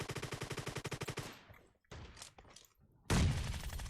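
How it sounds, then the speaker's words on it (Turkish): Pump shotgun fire in a video game: a rapid rattling string of about a dozen even shots, then scattered thumps after a brief lull, and a loud blast near the end, with no talk. "Ta oradan pompalı tüfekle kafadan vuruyor."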